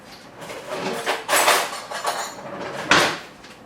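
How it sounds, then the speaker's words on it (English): Someone chops ingredients for guacamole in a home kitchen, with uneven knife knocks and clatter against a cutting board. Louder strikes stand out among the lighter taps, close by and without talk. "I guess I am gonna bore you with the chopping of the things."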